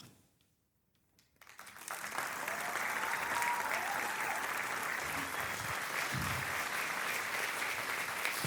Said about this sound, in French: On peut les applaudir encore bien fort,